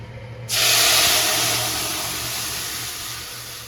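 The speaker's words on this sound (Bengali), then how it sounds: "ফুরনে দিচ্ছি পাঁচ ফুরন তেজপাতা শুকনো লঙ্কা দিয়ে আর কি ডালটা ফুরন দেবো" Spices, bay leaves and dry red chillies dropped into hot oil as a tempering for boiled dal, giving a sudden loud sizzling hiss that stays steady and slowly fades a little over a few seconds.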